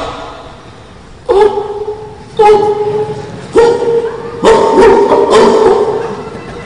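A man imitates a barking dog, giving five loud, separate voiced bark sounds spaced about a second apart, the later ones longer, with no other sounds around them.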